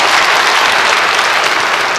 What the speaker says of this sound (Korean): 오늘도 우리의 기도를 들으시고 우리의 평안을 끼치는 주님 앞에 감사 박수 드리겠습니다.